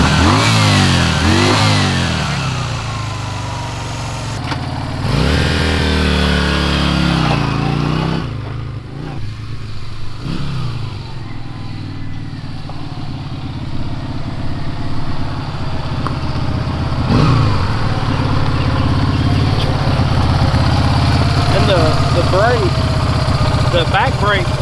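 A Yamaha Virago 250 motorcycle engine runs steadily close by, rising and falling through several revs over a constant idle drone.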